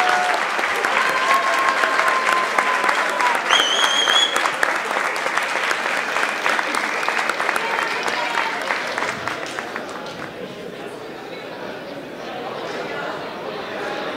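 Loud, sustained applause from a university gala crowd at the Campus d'Alcoi festivities, dense clapping lasting over ten seconds and easing slightly toward the end, with some chatter and cheering mixed in.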